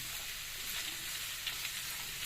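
Chicken and onions fry in a pan with a dense, steady sizzle that continues without a break and holds at an even level, with no voices.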